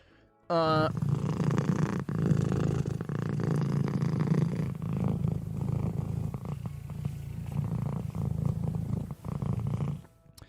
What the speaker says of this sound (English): The kitty cats were both napping in the living room together.